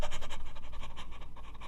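A choir's tenor and bass section pants together in a warm-up breathing exercise, a fast, steady rhythmic run of breathy huffs from many voices, close and continuous with no talking.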